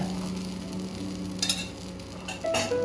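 Uttapam batter sizzling on a hot dosa griddle, a steady close frying hiss with a few brief brighter crackles and light scraping noises, no talking.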